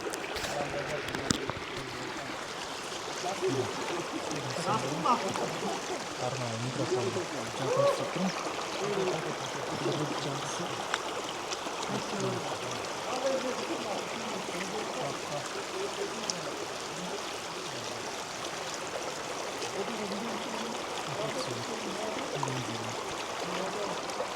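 A mountain stream at Jeti Oguz, Kyrgyzstan rushes and gurgles in a steady, continuous wash close by, with faint voices now and then under the water.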